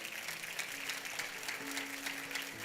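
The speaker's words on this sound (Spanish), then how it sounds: "Muy bien, dale un aplauso al Señor." A church congregation applauds during a Spanish-language service, a continuous hissing wash of many hands clapping, with a faint sustained tone running underneath.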